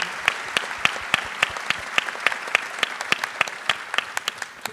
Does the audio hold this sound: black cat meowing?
no